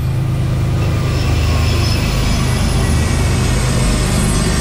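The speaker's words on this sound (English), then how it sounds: "Looks like there's a train coming." A train passes close by outdoors with a loud, steady rumble of rolling wagons and wheels that fills the whole stretch without a break.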